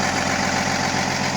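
A Peterbilt 359 truck engine idles through taller exhaust stacks with both mufflers deleted, giving a steady, loud, continuous low rumble with no break and no voices over it.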